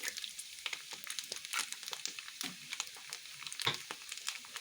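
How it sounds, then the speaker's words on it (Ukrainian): Pasta and a raw egg are stirred together in a hot frying pan, giving a continuous crackling sizzle broken by soft, uneven scraping strokes, at moderate volume and with no voices. "Добавили макаронів та перемішали це все."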